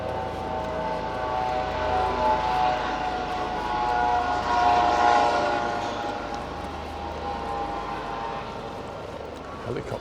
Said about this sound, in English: Helicopter just gone over.